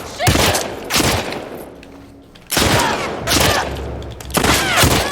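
Gunfire in The Last of Us Part II arrives as loud, close shots and rapid bursts in several separate clusters, each followed by a short lull.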